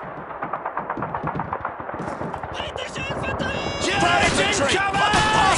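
Gunfire in Call of Duty 2 while defending a farmhouse, with a rapid series of close shots and bursts, busy and continuous, mixed with shouted voices throughout.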